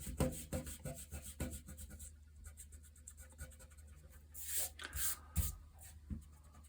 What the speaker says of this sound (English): I'll erase that.